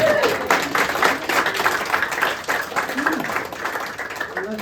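An audience applauds at a stand-up comedy show at the Rik Mayall Comedy Festival, a steady wash of clapping that runs the whole moment with a few voices mixed in.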